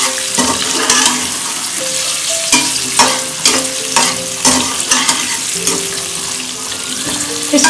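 Drumsticks fry in hot oil with a loud, steady sizzle, broken by repeated scraping and clanking as a utensil stirs them in the pan.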